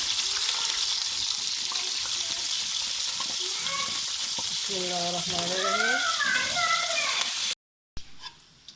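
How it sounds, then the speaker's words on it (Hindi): Onions sizzle steadily in hot oil in a home kitchen pan for Sindhi karahi gosht, a constant bright frying hiss throughout, with a short whining sound over it midway before the sizzle cuts off abruptly near the end. "अब इसके अंदर हम प्याज डालकर प्याज को फ्राई करके निकाल लेंगे"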